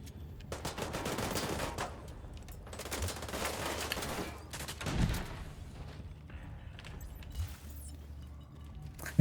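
Bursts of rapid automatic gunfire in a video game, long rattling volleys separated by pauses, followed by scattered single shots and mechanical clanks, fairly loud and close.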